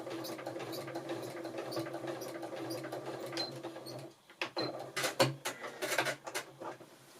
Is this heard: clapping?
no